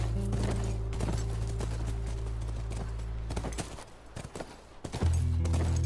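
Hooves clip-clop at a steady walking rhythm in The Last of Us, a horse moving close by over a low droning background, with a brief quieter stretch before the steps resume.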